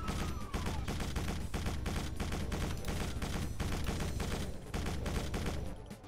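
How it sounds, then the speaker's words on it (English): Chaingunner enemies in the Doom mod Whispers of Satan firing, a rapid, loud stream of machine-gun shots hammering on without pause for several seconds. "we got sniping chain gunners"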